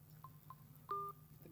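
A phone keypad sounds a few short, faint dialing tones in a quick uneven sequence over a low background hum, with the third tone held slightly longer.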